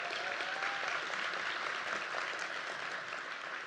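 Audience applause fills a luncheon hall after a guest shares her creative process, a steady dense clapping from a large crowd that holds at an even level throughout with no voices on top.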